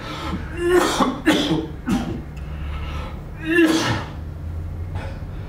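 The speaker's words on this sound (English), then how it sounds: "Just let me catch my breath." Heavy, uneven breathing from a person winded and catching their breath, with several sharp gasping exhales and coughing snorts over a low steady hum, heard up close.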